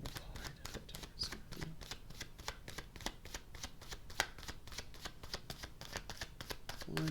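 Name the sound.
shuffling tarot cards to draw one more card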